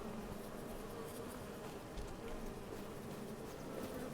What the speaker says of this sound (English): Now we have so many bees.